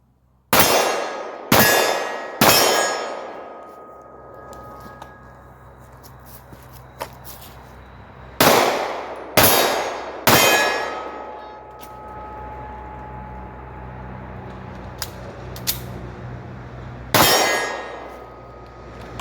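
Pistol shots fired two-handed in a concealed-carry shooting drill, sharp loud cracks with ringing decay, in quick bursts of about three with pauses between, roughly eight shots in all over faint background noise and no talking.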